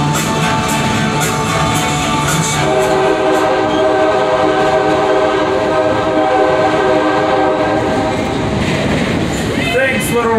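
A passenger train at Stone Mountain rumbles and clatters loudly along the track while its horn sounds a long sustained chord through the middle stretch, fading out near the end.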